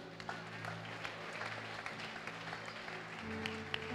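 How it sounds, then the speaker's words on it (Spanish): Church congregation applauding during an evangelist's service, a continuous patter of many hands clapping at low level over a sustained organ-like hum. "Dale un aplauso a Dios."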